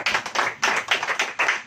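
A congregation at a church service claps along together, a dense, loud, rhythmic wash of many hands striking roughly in time, several pulses in quick succession with no talk over it.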